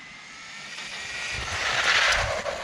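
An RLAARLO brushless RC buggy running on 2S speeds past, its high motor whine rising and swelling as it nears, then fading slightly, with gritty tyre noise underneath.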